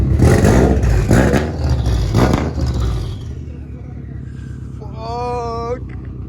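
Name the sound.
Subaru STI 2004 engine revving with turbo blow-off valve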